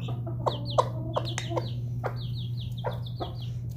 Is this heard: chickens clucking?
yes